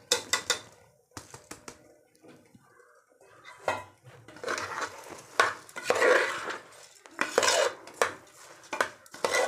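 Soaked basmati rice being stirred into tomato masala in a pot, a spoon scraping and clinking against the metal pot in irregular bursts, with a soft wet shuffling of grains, close by.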